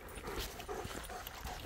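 Dogs out on a walk along a wet, rainy lane, giving soft high whimpers and small yips in a short restless burst amid outdoor noise, with no talking.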